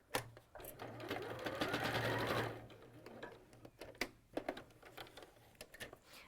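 A sewing machine stitches Liberty fabric in a steady mechanical whir that runs for a couple of seconds, then gives way to a few short separate bursts and clicks, close but fairly quiet.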